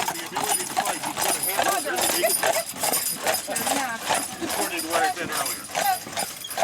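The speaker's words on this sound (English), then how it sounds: "Look at these horses." Several horses walk along with steady clip-clopping hooves, close and fairly loud, under a continuous layer of overlapping voices and general outdoor bustle.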